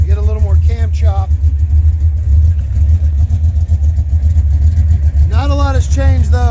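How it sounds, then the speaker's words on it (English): The engine of Project White Trash, a motorcycle, idles with a heavy, continuous low rumble that stays loud and even throughout, while someone talks over it at the beginning and near the end. "It is very difficult to hear the cam. It is just one big rumble."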